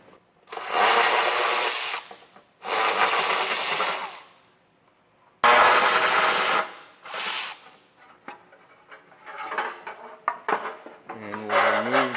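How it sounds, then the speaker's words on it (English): A power driver spins out the heat shield screws beneath a 2018 Subaru Outback, in three loud whirring bursts of about two seconds each with short pauses between, followed by quieter clicks and handling noises. "To remove our heat shield, there's going to be 4 screws. You can either use a Phillips head or a 10mm."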